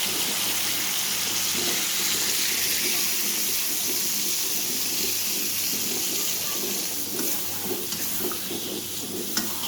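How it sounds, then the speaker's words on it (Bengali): Milk poured into a cooking pot of chicken biryani, giving a steady, continuous liquid rush with a soft sizzling, bubbling undertone that holds close and even throughout, with no talking. "এর মধ্যে এখন আমি দুধ দিয়ে দেবো।"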